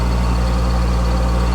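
A farm tractor idles steadily in neutral with the handbrake set, giving a continuous low, rumbling drone with a constant pitch. The engine sounds close and fairly loud, with no speech over it.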